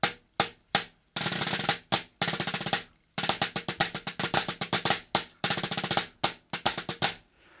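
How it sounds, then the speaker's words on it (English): Buzz rolls on a gum rubber drum practice pad with a neoprene snare-simulating surface, short bursts and sustained rolls alternating with single sharp strokes, close and crisp with a metallic buzzy rattle. "This drum pad simulates that snare buzz very effectively."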